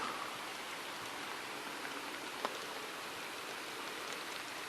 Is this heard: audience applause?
no